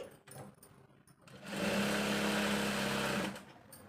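A sewing machine stitches piping onto blouse lining, starting after quiet handling sounds and running in one steady, close, mechanical whir for about two seconds before stopping.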